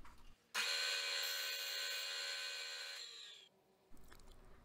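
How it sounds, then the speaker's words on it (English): A milling machine cuts black walnut center blocks with a loud, steady, high-pitched whining roar for about three seconds, then spins down, leaving quieter shop noise; no one speaks. "We continue using the mill to prepare the walnut center blocks for threaded"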